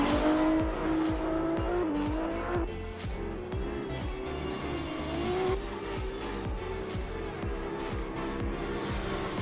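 A drift race car at a drift competition qualifying run brakes hard, its tires squealing loudly over a revving engine, with the tone shifting as the car slides through the corner.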